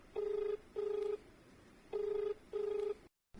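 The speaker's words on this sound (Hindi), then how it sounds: "एक देखें फोन आवता" A telephone rings in four evenly spaced electronic bursts, each a steady tone with short pauses between, clear and close with no talking.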